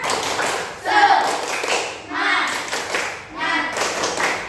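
Schoolchildren in an Islamic studies class perform a rhythmic group clapping routine, the tepuk semangat, with bursts of clapping and chanting voices in pulsing phrases alternating with brief lulls.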